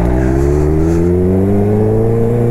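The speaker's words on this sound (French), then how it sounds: "Vous entendez là l'électronique qui se met en marche sur la moto? Ça la fait brouter un peu." A 200-horsepower motorcycle on an open road holds a loud, steady engine drone that climbs slightly in pitch while its electronics hold back the power, with no voices.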